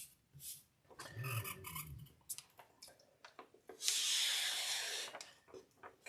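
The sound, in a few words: squeegee pressing down paper sheet on 3D printer bed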